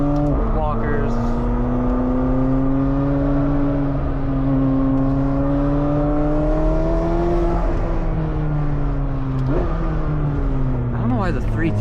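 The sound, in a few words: sports car driving on track, manual transmission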